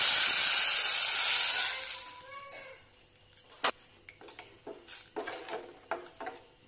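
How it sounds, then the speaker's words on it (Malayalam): Ground paste poured into a hot pan for drumstick leaf curry gives a loud, close hiss and sizzle that fades within about two seconds, followed by faint scattered clinks and light taps. "ഇതിലേക്ക് നമുക്ക് തയ്യാറാക്കി വെച്ചിരിക്കുന്ന അരപ്പ് ഒഴിച്ചു കൊടുക്കാം."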